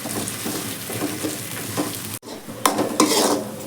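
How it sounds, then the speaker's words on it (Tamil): Onions sautéing in a pan for a jackfruit seed chukka, with steady sizzle and stirring; a brief break near the middle, then louder scraping strokes of the spoon against the pan, close and alone. "இப்போது வெங்காயத்தை நல்லா ஒரு 2-3 நிமிஷத்துக்கு நல்லா வதக்கிக்கலாம்."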